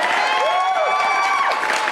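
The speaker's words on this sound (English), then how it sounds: "I'm getting the applause in here for that one." Applause and cheering from a crowd sound effect played over a trivia livestream, a steady wash of clapping lasting the whole two seconds, fairly loud, with a voice talking over it.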